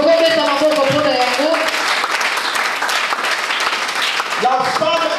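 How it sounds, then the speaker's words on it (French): A church congregation breaks into loud sustained applause during a wedding-themed sermon, a dense continuous roar of clapping with voices talking and calling out through it. "Est-ce qu'on peut acclamer pour cela?"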